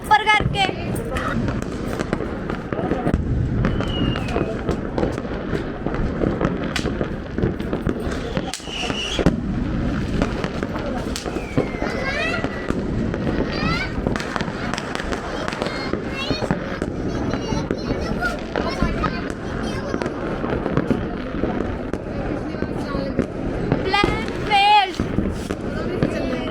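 Diwali firecrackers and fireworks crackle and pop continuously at a nearby celebration, with sharper bangs around the middle and end, while children and adults talk throughout.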